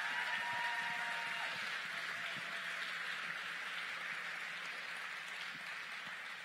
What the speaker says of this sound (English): I think we should give law enforcement a round of applause